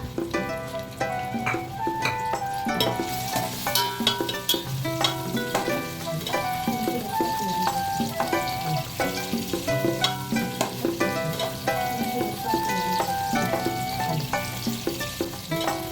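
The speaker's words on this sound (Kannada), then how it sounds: "ಎಣ್ಣೆ ಬಿಸಿ ಆದ ನಂತರ ಈರುಳ್ಳಿ ಹಾಕಿ ಕೆಂಬಣ್ಣ ಬರೋ ಥರ ಫ್ರೈ ಮಾಡ್ಕೊಳ್ಳೋಣ" Onions fry in hot oil in a pan for mushroom pulao, a steady sizzle and occasional stirring beneath prominent melodic background music throughout.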